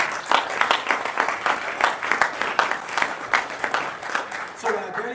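An audience at a business gathering claps in a lively, uneven patter of individual hand claps, fairly close, with voices mixed in.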